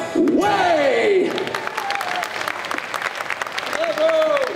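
At a Disney concert during a geek convention, the crowd claps and cheers, with a few voices whooping loudly over the applause at the start and again near the end.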